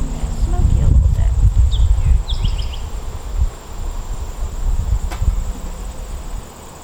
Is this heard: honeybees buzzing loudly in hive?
yes